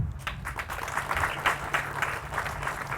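An audience at a public library rededication ceremony gives a steady round of applause, a dense wash of many hands clapping that holds at an even level throughout.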